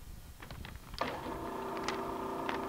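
A Southwest Industries TRAK DPM CNC vertical mill with a 3HP spindle shifts into low gear: a few soft mechanical clicks, then a steady, close, droning motor whine with a tonal hum that holds to the end.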